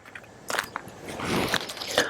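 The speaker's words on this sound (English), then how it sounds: "And they are crunchy like crackers." Crunchy MRE crackers are bitten and chewed close to the mic, sharp crisp cracks followed by grinding, crumbly chewing that builds and continues with a few more crunches.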